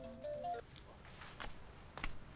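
A phone ringtone plays as a melodic tone pattern for about half a second in an indoor domestic scene, followed by faint rustling and a couple of short clicks.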